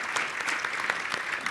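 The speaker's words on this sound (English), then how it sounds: "so applause to all of you for that work you've done" An audience at a university colloquium applauds, with sustained, fairly soft clapping spread evenly across the room and no speech over it.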